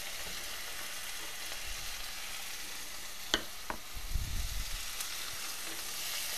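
Garlic cloves and tomatoes sizzle in a pan for Tuscan chicken pasta, a steady frying crackle with a couple of sharp clinks and a stirring rustle partway through, no talking.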